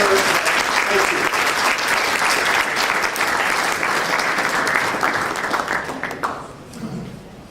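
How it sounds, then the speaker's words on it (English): Sustained audience applause at a Hall of Distinction induction ceremony, full and steady for several seconds, then thinning out and fading as a voice begins to speak. "Please give a round of applause to Dr."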